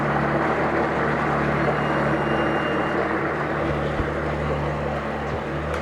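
A 2014 Evinrude Etec 65hp two-stroke outboard motor idles steadily up close, with a constant buzzing engine drone and no change in pace across the whole stretch.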